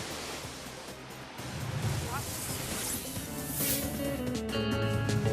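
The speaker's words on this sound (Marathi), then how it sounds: "नदी सध्या दुथडी भरून वाहू लागली आहे" A swollen river running brim-full in flood through a town, with dams overflowing, roars as a continuous, fairly loud wash of water. Faint steady tones and a low hum sit underneath.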